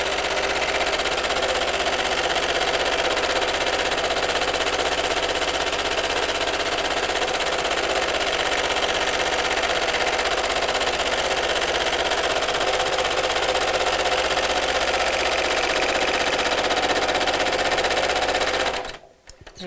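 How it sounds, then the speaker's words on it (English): A sewing machine does free-motion embroidery on a Christmas bauble appliqué cushion. Its steady, rapid mechanical whir runs loud and unbroken for nearly twenty seconds before stopping abruptly, with no voices. "I love free motion embroidery."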